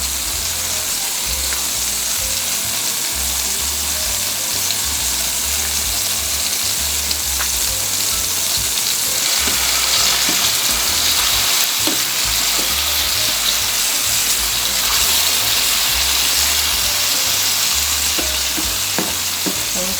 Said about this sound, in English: I'm gonna let this fry up a little in the oil until everything, especially the tomatoes, I want them to be soft.